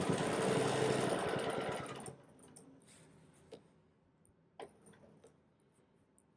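A sewing machine doing free-motion quilting on an echoed square design runs loudly and steadily for about two seconds, then stops, leaving near quiet with a few soft clicks.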